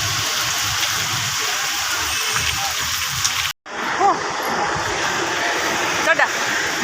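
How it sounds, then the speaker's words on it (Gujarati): Heavy rain pours down as a dense, continuous hiss, broken only by a brief dropout, with people talking over it. "કેવો વરસાદ આવે છે જો."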